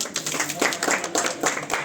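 Audience clapping at a prize-giving ceremony for the Krishnampalli farming division winners in Duvvur mandal, Kadapa district, heard as a short burst of steady, fairly close applause.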